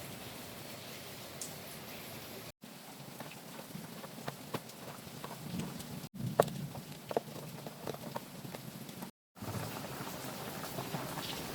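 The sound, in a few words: rain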